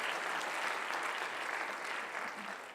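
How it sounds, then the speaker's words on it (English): Steady applause from an audience at a Santa Monica State of the City event, heard at moderate level and fading slightly toward the end, with no speech over it. "you can clap if you want."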